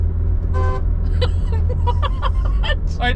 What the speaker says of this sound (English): Like very polite little horn.